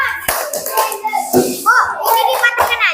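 Children play the 'tepuk diam' clapping game: a few sharp hand claps mixed with young voices chanting and speaking close by, the claps partly buried under the talk.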